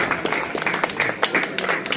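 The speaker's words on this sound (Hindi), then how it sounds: "एक बार जोरदार तालियां" A crowd at a large public gathering in Muzaffarnagar, Bhopa, breaks into hearty applause for a youth district president, dense rapid clapping from many hands that holds loud and even throughout.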